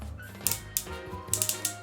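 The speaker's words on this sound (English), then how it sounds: "that's the sound of the ratchet working as it should" A ratchet joint in the hips of a Transformers toy figure clicks several times in quick, crisp snaps, close up and fairly quiet, with low hum underneath.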